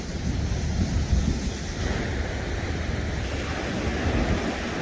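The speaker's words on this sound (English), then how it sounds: "This is a good example of what the beach is like here. It's rocky" Ocean waves wash in on a rocky beach at a state beach campground, giving a loud, continuous surging roar mixed with wind buffeting the microphone.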